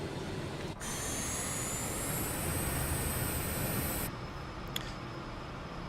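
Dassault Falcon 50 jet engines spooling up, a steady loud roar with a rising high whine that cuts off abruptly partway through, then a quieter rumble remains.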